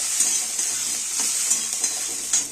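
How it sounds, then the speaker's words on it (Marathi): Whole peanuts dry-roasting in a pan, a continuous close hissing sizzle broken by light rhythmic scrapes and clicks of stirring, no voices. "तर जास्त ढवळ्या रंगावर भाजून घ्यायचे बघा,"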